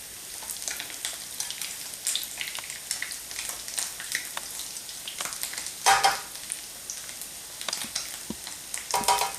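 Panko-coated tofu sears in a pan of oil with a bright, crackling sizzle that swells into louder spatters near the end, heard close with no speech.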